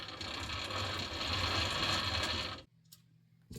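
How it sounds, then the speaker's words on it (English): Metal clamp spun by a bicycle crank in a garage workshop, a steady loud whirring rattle lasting a few seconds before stopping abruptly, followed by a brief quiet hum. "This is essentially just a clamp being spun by a bicycle crank."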